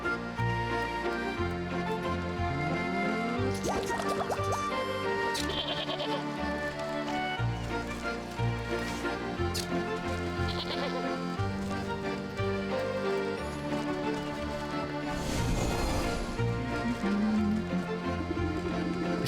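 Sheep bleating in the video game Wytchwood, repeated bleats over a steady game music backdrop, moderately loud and continuous.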